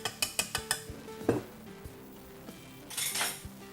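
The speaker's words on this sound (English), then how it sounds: "You want to shake off the excess from the whisk. Just go ahead and thwack it." A whisk is rapped repeatedly against a bowl to shake off a raw vegan batter, a quick run of sharp metallic clinks followed by a few scattered knocks and a brief scraping rattle, close and fairly quiet.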